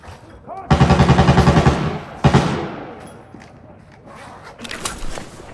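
Loud burst of rapid automatic gunfire in Arena Breakout, followed by a second shot cluster and scattered quieter shots and movement sounds, with a voice speaking faintly in the background.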